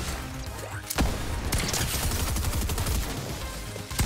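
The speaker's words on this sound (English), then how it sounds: "Shotgun's insane." Shotgun fire in the video game Fortnite, several sharp loud blasts spaced irregularly over a dense background of gunfire and crashing game noise.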